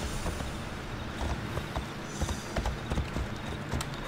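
Horse hooves in Assassin's Creed Odyssey, a steady rhythmic clip-clop of a horse moving on a slope over outdoor ambience, moderately loud.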